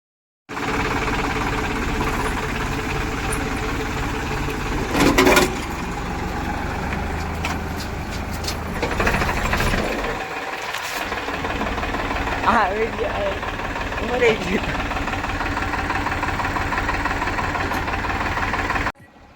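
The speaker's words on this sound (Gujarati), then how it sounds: "આ ટ્રેક્ટરને તો જરા જ આપણે આંસકો માર્યો ના તો ફટાક લેતું ઉપડી ગયું" An old tractor engine, just started by towing, runs with a steady, loud, rough drone for the whole stretch, with a few louder bursts and voices heard intermittently over it.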